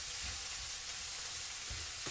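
Onions for nasi goreng frying in a small frying pan, a steady close crackling sizzle with faint stirring scrapes, heard alone without speech.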